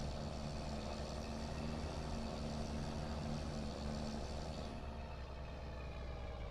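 A heavy logging truck engine idles steadily nearby, a low continuous rumble with a faint hum throughout, no voices.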